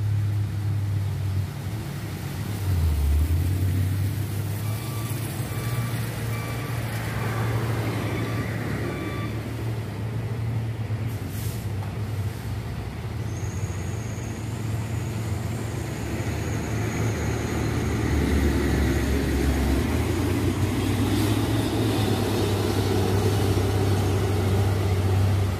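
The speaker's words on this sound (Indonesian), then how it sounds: "Ini sebuah trail kontainer ya, siap-siap untuk mendaki di tanjakan Bukit Kodok ini." A container trailer truck labours up the steep Bukit Kodok climb, its deep engine drone steady and loud throughout, rising to a heavier roar toward the end, with no talk over it.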